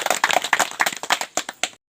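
A short burst of clapping from an audience greeting guests at a stage event in a Tehri Garhwal colony, Uttarakhand, with quick uneven claps that thin out and stop after under two seconds.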